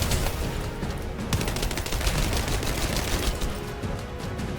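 A gun fires rapidly in The First Descendant during a boss fight against the Dead Bride, a dense, continuous burst of loud automatic shots with sharp cracks layered over heavy game noise.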